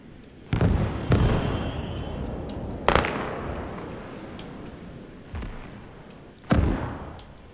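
Mortar shells land in a war video game as several heavy, booming thuds spaced irregularly a second or more apart, each with a short fading tail over quiet background noise.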